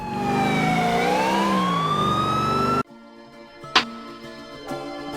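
A loud, close police car siren from the video game Call of Duty Ghosts wails in rising and falling sweeps, then cuts off abruptly into quieter game sounds with a sharp knock.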